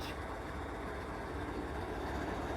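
A CSX ES44AH diesel locomotive sitting at idle, a faint, steady low rumble and broadband hiss with no distinct changes over a few seconds.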